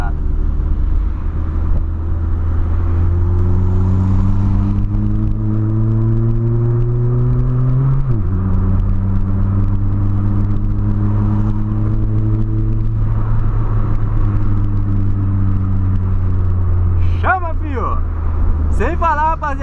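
A 2008 Volkswagen Polo's engine climbs steadily in pitch under acceleration, shifts gear once with a brief dip, then pulls up again in a loud, continuous drone, with a short burst of voice near the end.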